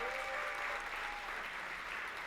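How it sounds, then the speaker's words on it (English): A keynote audience at a real-estate conference applauds, a distant, even wash of clapping that stays uniform throughout, fairly faint in the room. "Give her a round of applause."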